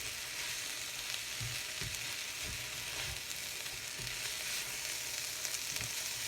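Shrimp fry with garlic and cabbage in a pan, a steady sizzling hiss with a few soft stirring knocks, moderately quiet and without talking.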